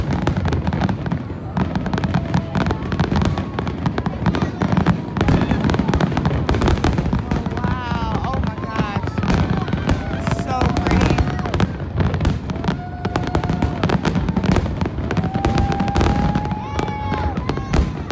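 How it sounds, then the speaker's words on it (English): Fireworks burst repeatedly in a rapid, crackling barrage, with sharp pops and whistling streaks over a loud, continuous rumble of explosions. "Okay, but the fireworks,"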